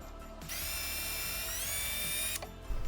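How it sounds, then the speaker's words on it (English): A power drill whines steadily for about two seconds at high pitch, drilling out a pre-drilled hole in a cabinet face frame, starting abruptly and cutting off, with faint clunks before and after. "We're still going to drill them out so that our face frame does not crack."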